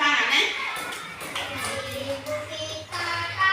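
A class of children claps along while singing an Indonesian song about Kartini, with soft rhythmic hand claps under their voices in a classroom.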